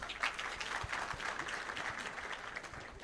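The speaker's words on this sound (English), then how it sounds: "Can we clap for them?" Office audience clapping for the customer experience team at a telecom company event, scattered uneven claps with some sharper individual hits, moderate and fairly close.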